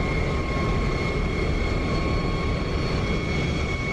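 An F-104 Starfighter jet engine at full military power in the DCS flight simulator, a steady, loud, continuous roar with sustained whine tones running unbroken throughout, no voices present.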